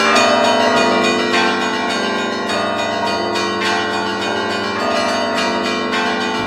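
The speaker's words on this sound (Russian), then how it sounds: "здесь есть еще один уникальный музыкальный инструмент – звонница из 35 колоколов," A belfry of 35 Russian church bells at the Bolshoi Theatre rings out loud and close, with overlapping bell tones in a continuous peal and no talking.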